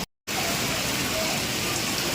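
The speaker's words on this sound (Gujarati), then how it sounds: "જો બહુ ફાસ્ટ વરસાદ આવી રહ્યો છે અમદાવાદમાં" Heavy rain comes down hard in Ahmedabad, flooding the street, in a continuous, loud hiss after a brief silent gap at the start.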